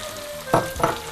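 Green asparagus beans frying in a pan give off a soft steady sizzle, with two brief louder bursts of crackling as they are stirred.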